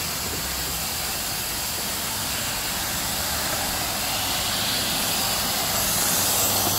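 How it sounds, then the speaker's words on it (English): Compressed air hisses steadily through the bar feeder of a Tsugami SS20 lathe during power-up, a constant broadband rush that swells slightly toward the end, with no talking. "I can hear air going through the bar feeder"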